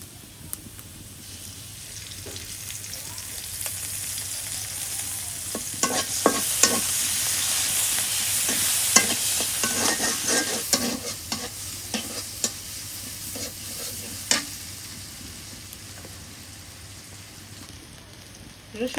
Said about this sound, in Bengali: এই কড়াইয়ের মধ্যে চাল কুমড়া কষাই দিই